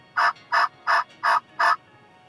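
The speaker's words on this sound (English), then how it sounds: "We had a silent morning, so finally got one to gobble after the past 2 days." A wild turkey gobbles five times in an even rhythm, each call short and clear, carrying from a moderate distance across a quiet morning.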